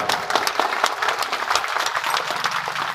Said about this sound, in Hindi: एक बार जोर से ताली बजा दो रत्नेश कुशवाहा